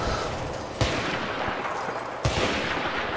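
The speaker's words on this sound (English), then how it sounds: "I just had to quickly shoot them twice now." Two sharp sniper rifle shots from Battlefield 3 on the Tehran Highway map, spaced about a second and a half apart. Both crack loudly over steady battlefield ambience, and nobody speaks.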